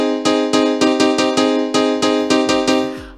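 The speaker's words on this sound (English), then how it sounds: "The easiest way is to play a one-hand chord rhythm." Korg M1 Piano 16 preset playing a one-hand chord rhythm in 1990s rave and Eurodance style, a bright stabbing piano chord repeated about eleven times in a steady bouncy pulse, loud and alone.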